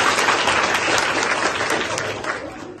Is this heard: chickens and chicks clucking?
no